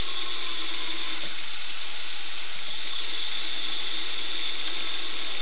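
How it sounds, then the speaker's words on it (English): Water streams steadily from a just-repaired sink faucet, running hot and cold as a continuous broadband rush at a constant level, with a faint click or two and no voices. "And then we can turn the water on."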